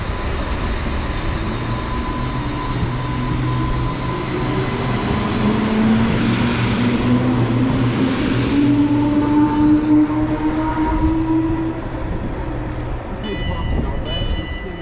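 Class 350 electric trains arriving at a station, a continuous loud rumble with a slowly rising motor whine as they pull in, rail noise filling the whole stretch.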